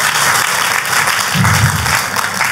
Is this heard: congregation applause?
yes